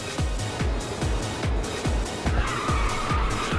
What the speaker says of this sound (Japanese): ニトロ使ってないのに、ドリフト速く見えるな